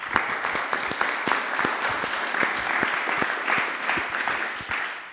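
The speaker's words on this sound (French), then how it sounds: "On les applaudit." Scattered audience clapping after an evening apéro talk at a startup event, sparse individual claps heard fairly close and steady for a few seconds, with no talking over it.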